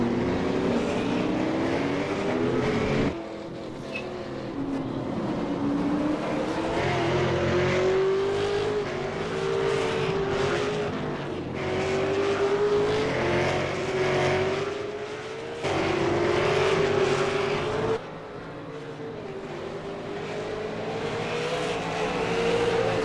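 V8 Supercar engine in iRacing at Oran Park, a loud in-car drone rising and falling through gear changes and braking, with repeated throttle lifts and re-acceleration over the lap, no talk.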